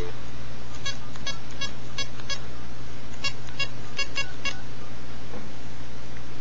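An iPhone calling itself gives off short bursts of bright dialing beeps in quick clusters, a few near-regular groups spread across several seconds over a low steady hum, with no one talking.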